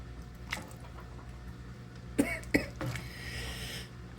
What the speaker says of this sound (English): there goes my coughing.